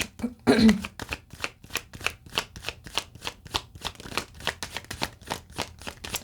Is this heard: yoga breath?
no